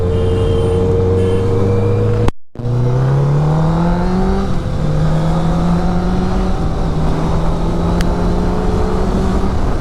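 Superbikes including a Triumph Daytona, Street Triple, Kawasaki Ninja 1000SX and Suzuki GSX-R on a group breakfast ride near Krishnagiri, with engines revving and climbing through the gears in loud rising sweeps, broken by a brief cut.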